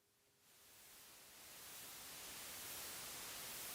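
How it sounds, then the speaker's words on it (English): Faint white noise from the NoInputMixer iOS app fades in and swells into a steady, even hiss that grows slightly louder and brighter, heard alone. "you can hear this kind of just a little bit of white noise there"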